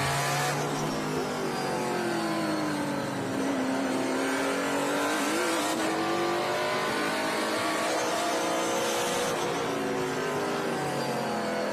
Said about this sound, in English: It's nice to just listen to them for a second and get a sense of the revs